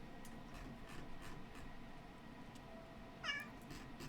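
A house cat gives one short, faint meow near the end, rising briefly above a soft, steady background hiss, with no voices.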